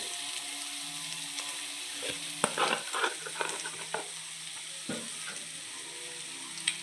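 Cumin and coriander powder frying in oil with onion for doi katla, a steady low sizzle broken by a few sharp scraping stirs of a spoon in the pan, close and fairly quiet.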